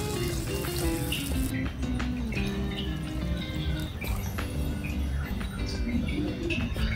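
Water being poured into a pan of pancit bato as it cooks, a steady bubbling simmer with faint splashes and dripping close by, no voices.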